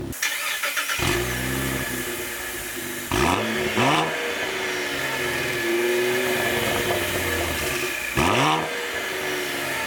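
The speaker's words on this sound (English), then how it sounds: "the V models have the signature quad outlet exhaust. It still sounds pretty good at idle." A 2018 Cadillac ATS-V idles through its quad-outlet exhaust with a steady, throaty rumble, with a few brief revs blipping up at intervals before settling back to idle.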